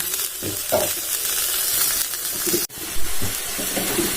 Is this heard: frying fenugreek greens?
yes